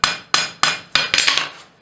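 A blacksmith's hammer strikes metal on an anvil while a leaf is being forged. Six sharp, ringing blows land close up in an uneven rhythm, the last few coming in a quicker cluster.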